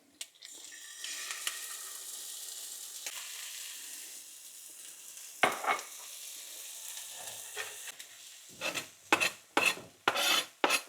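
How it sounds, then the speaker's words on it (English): Hot and spicy Spam with carrots and egg fries in a little oil in a pan, giving a steady sizzle, followed toward the end by a series of sharp scraping strokes from stirring in the pan. "we've got the hot and spicy Spam frying up in the pan"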